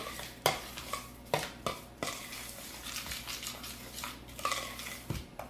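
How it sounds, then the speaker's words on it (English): A spoon stirring matcha chocolate bar mixture in a bowl: repeated sharp clinks and scrapes against the dish in an uneven rhythm, close and fairly loud, with no talk. "So we just want to mix everything up."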